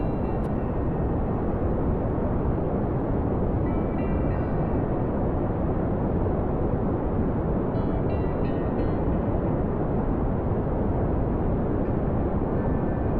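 Solid rocket boosters fire in Kerbal Space Program, giving a dense, unbroken roar that stays loud and even from start to finish with no voices over it.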